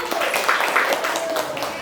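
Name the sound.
students clapping for group one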